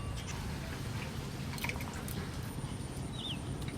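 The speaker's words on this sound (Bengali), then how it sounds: "জল ঘাটা হচ্ছে" A hand stirs water in a container in a rural outdoor kitchen, making close, continuous soft sloshing and squishing with faint drips.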